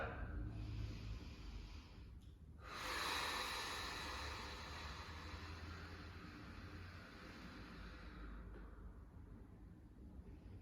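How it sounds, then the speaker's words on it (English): A person doing a diaphragmatic core breathing exercise, drawing a long deep breath in and then blowing it out in a sustained airy exhale, close to the microphone with no talking. "I will take a deep breath in, blow it out, and then hold that position at the bottom before taking my next breath"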